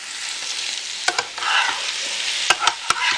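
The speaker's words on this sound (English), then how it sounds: "I'll add all the ingredients and let it simmer maybe 10-15 minutes" Stroganoff ingredients simmer in a pan with a soft, continuous sizzle, punctuated by several sharp clicks and scrapes of a utensil stirring against the pan, close and fairly quiet.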